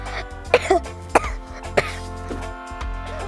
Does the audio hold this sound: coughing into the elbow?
yes